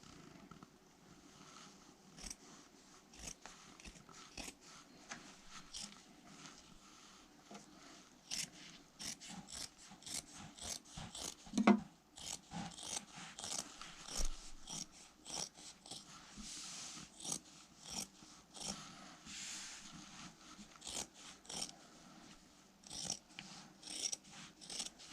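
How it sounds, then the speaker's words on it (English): Scissors cut a towel in half, a long run of repeated crisp snips and rasping fabric sounds, quiet and close, with no talking. "Get my scissors."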